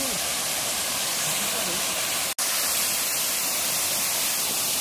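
A rain-swollen waterfall roars as a steady, loud broadband rush without a break, apart from one brief dropout near the middle.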